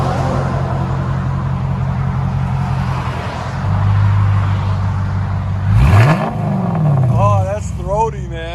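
A Dodge Charger with a 5.7L HEMI V8 idles with a deep, throaty exhaust rumble, then revs up sharply once and settles back to idle, loud and close, while a voice speaks briefly near the end.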